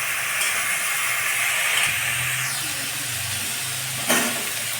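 Boiled potatoes and pumpkin greens fry in a pan for a vegetarian chorchori, giving a steady sizzle broken by a couple of scraping stirs of the spatula.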